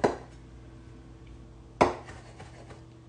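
A sharp knife chops through basil on a cutting board, making sparse crisp thuds, a few seconds apart and close by.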